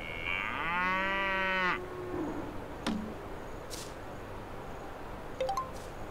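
A cow moos once in a long, drawn-out call while being milked in the farm video game Boku no Natsuyasumi 3, followed by a few soft game effect sounds; no voices.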